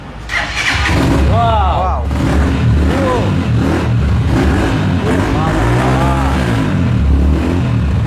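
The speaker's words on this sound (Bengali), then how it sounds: "আঙ্কেল একটু স্টার্ট দিবেন এক্সেল বাইকটা" A Rusi XL v7 bike engine runs loud and close, rumbling and rising in revs, while people talk and exclaim over it throughout.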